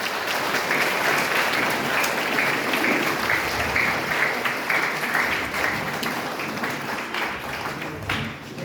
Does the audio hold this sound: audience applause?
yes